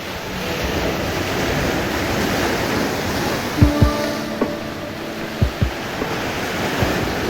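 Steady wash of winter Black Sea surf breaking on a shore at Constanța in the rain, broad and continuous, with wind across the microphone and a few soft thumps near the middle.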